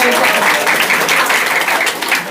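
An audience applauds loudly and close for a couple of seconds at a 2016 religious lecture on education by Maulana Abdul Rahim Ashrafi, a dense steady wash of clapping.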